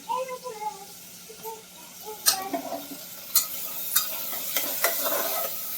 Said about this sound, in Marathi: तेलात मिरची आणि ना साल काढून बटाटा बारीक चिरलाय तो टाकलाय ते जरा भाजणार आहे